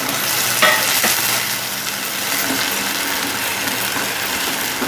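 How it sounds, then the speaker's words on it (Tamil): Fried bread pieces drop into sugar water for bread halwa and are stirred, giving a loud, steady, close wash of sloshing liquid and scraping with one brief splash near the start. "நம்ம ஃப்ரை பண்ணி வச்ச பிரெட் பீசஸாக இதில் போட்டுருங்க"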